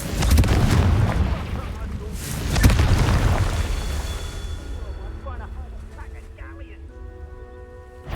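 A booming Confringo blasting-spell explosion in Hogwarts Legacy erupts loudly and then a second blast hits a couple of seconds later, trailing into a fading rumble with faint chiming magical tones.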